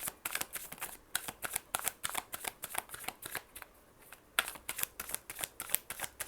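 Tarot cards are shuffled by hand in close, crisp bursts of riffling and flicking, a quick irregular patter of papery snaps with short pauses between runs.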